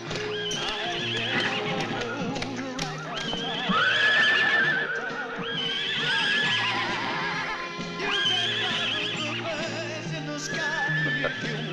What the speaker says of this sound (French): Sont à qui ces chevaux?